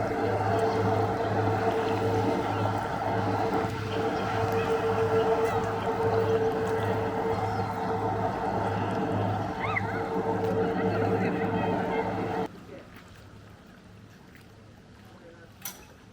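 A boat's engine drones steadily on the water at Ine, Japan, a constant low throb that drops abruptly to a quieter idle near the end.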